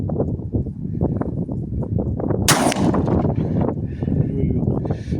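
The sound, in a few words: test shot fired from a weapon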